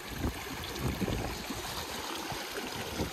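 A wide river rushes and gurgles steadily, a continuous close flowing sound with small splashes throughout, on the Kungsleden trail.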